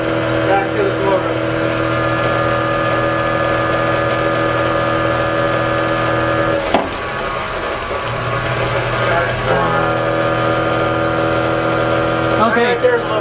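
A 40kW generator motor runs steadily under its own power, a constant droning hum with strong tonal lines, briefly dipping midway, while faint talk and small knocks sound underneath.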